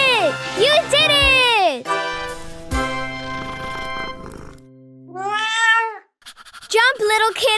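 A cartoon kitten meows repeatedly in bright, bending cries, some long and wavering, others short and quick, over a cheerful children's animation soundtrack.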